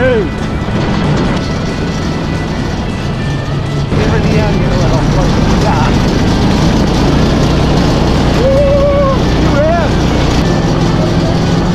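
Homemade go-kart built from junk parts, its small engine running steadily under loud wind and road rumble as it drives off, with people talking and shouting over it.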